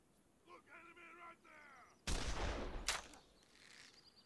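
Gunfire in the video game This Land is My Land: a sudden burst of loud, booming shots erupts after calm with bird calls, with a second sharp crack following, then quiet ambience returns.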